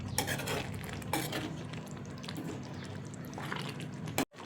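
Chana masala being stirred in a pan, a spoon scraping and clinking against the metal a few times amid a soft wet simmer, close and fairly quiet, ending with a sharp knock.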